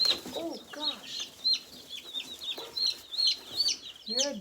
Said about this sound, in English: come here, Rooster